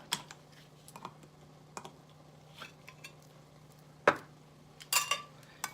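A can of Rotel tomatoes being opened in a kitchen: scattered small metallic clicks and taps of the opener, with a sharper clank near the end and a couple of louder rattles, close and fairly quiet.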